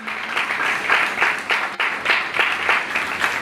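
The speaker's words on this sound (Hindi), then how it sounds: "जोर ताली यीशु के जलाल के लिए।" A church congregation claps loudly and steadily through a live sermon, dense sustained applause with no talk over it.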